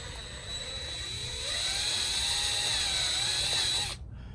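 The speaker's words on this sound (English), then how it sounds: "take the drill bit, put it right in the center of that frequency weld, and we're just gonna push down on it" A high-pitched power drill whines steadily for about four seconds, its pitch wavering as it bites into metal while drilling out a spot weld, then stops abruptly.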